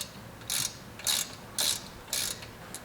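Ratchet wrench working on intake manifold bolts of a 1960 Ford F100 pickup, four short crisp ratcheting bursts in a steady rhythm, close and fairly quiet.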